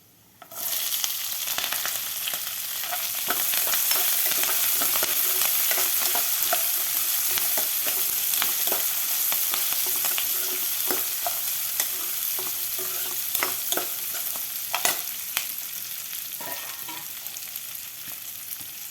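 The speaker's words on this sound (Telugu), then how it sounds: "ఇవి వేగినవి కరివేపాకు క్యారెట్ అల్లం ముక్కలు పచ్చిమిర్చి ఉల్లిపాయలు ఇవి కూడా వేసేసుకుందాం" Curry leaves, carrot, ginger pieces, green chilies and onions fry in hot oil for upma, with a loud steady sizzle that starts abruptly and carries on under occasional scraping stirs, close by.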